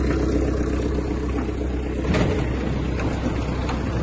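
A Kubota X-20 mini tractor's engine runs steadily with the power take-off engaged, a continuous loud, close mechanical drone with no talking.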